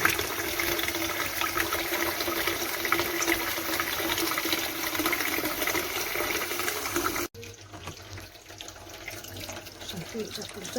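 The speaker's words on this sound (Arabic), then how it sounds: "اخر مره بقى بحط فيه ميه كده عشان يتغسل من جوه كمان." Water pours and rushes into mumbar casings to rinse them inside, in a kitchen. The steady, loud splashing stops abruptly and then continues more softly.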